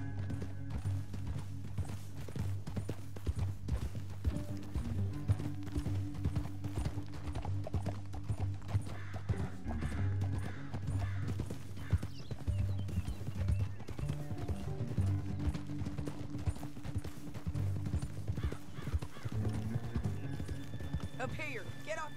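Horse hooves clip-clop in a steady, rapid rhythm throughout a Western video game ride, moderately close, under ongoing talk from characters.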